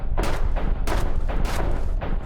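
Rapid gunfire in the survival horror video game Darknot: about five loud, sharp shots in quick succession, evenly spaced roughly half a second apart, close and punchy, with no voices.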